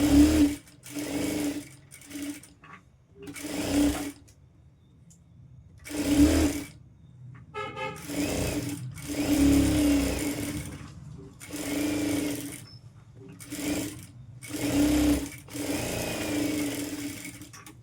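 A sewing machine stitches a princess-cut boat-neck designer blouse in loud, even bursts of rapid whirring, each run a second or two long and separated by short pauses, with no talking.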